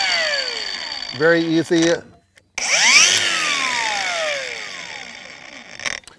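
CAT angle grinder switched on and spinning up with a rising whine that settles into a steady high running tone and then winds down, preceded by a short burst of speech.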